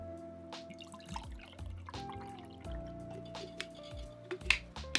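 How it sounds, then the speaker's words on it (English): G FUEL energy drink poured from a shaker into a glass, a close, steady liquid trickle with scattered drips and splashes and a few light clinks, no talking. "now I'm gonna pour it into a glass so we can see the color and give it a taste."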